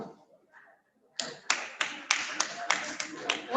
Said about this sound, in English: A round of applause for all the songs.